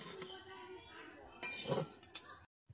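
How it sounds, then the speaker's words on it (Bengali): A spoon stirs Bengali basanti pulao with ghee in a cooking pot, giving a few soft scrapes and one sharp metallic clink against the pot, faint over a quiet kitchen background before cutting to silence. "ঘি দিয়ে একটু নেড়ে নিচ্ছি।"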